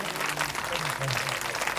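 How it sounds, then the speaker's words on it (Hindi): Audience applause at a Shrimad Bhagavat Katha gathering at a temple in Jabalpur, a dense continuous wash of clapping from a crowd with a voice faintly audible underneath. "एक बार जोरदार तालियां पुनः हमारे भैया के लिए।"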